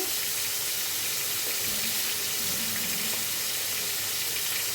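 Shrimp frying in hot oil in a pan, a steady dense sizzle that hisses continuously and close without pause.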